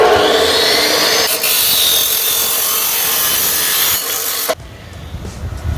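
Steel stud track and channel stud pieces being cut for an outdoor kitchen frame, a loud, steady abrasive cutting whine that runs for about four and a half seconds before stopping abruptly, with no talking.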